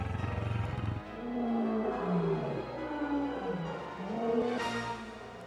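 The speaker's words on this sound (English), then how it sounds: "Imagine our fright when in the darkness we heard the roar of a wild beast." A wild animal lets out deep, drawn-out roars and growls, rising and falling several times, heavy and resonant against a quiet background.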